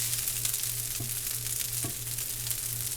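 Soy sauce is added to fried rice in a pan, and the rice sizzles in a loud, steady, close hiss, with faint stirring scrapes and light clinks.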